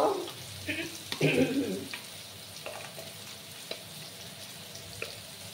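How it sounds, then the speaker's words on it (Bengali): Pumpkin pieces fry in a pan, a moderate continuous sizzle with a few clattering stirs and utensil knocks early on, then quieter frying with occasional clicks. "এদিকে আমার মিষ্টি কুমড়োগুলো ভাজা হচ্ছে"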